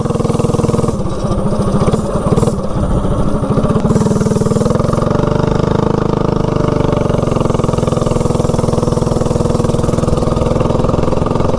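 Propane-powered mini bike engine running on gasoline, a steady loud close chugging idle with a brief blip of revving near the start, then settling into an even mid-pitched drone with no talk.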